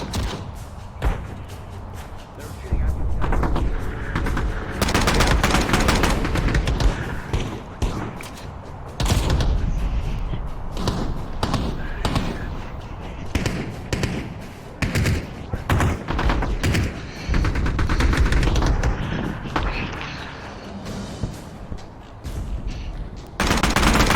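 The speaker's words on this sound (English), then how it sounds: "that flurry of gunfire ricochets around your head" Sustained bursts of rapid gunfire in a skirmish game crackle and thud almost nonstop, loud and dense, with brief gaps between volleys.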